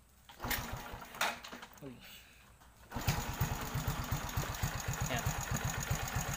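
A Yamaha SZR 153 motorcycle fitted with a TMX 155 carburetor putters at idle, the engine catching after a brief falter and then chugging in a quick, steady beat, with short spoken words over it.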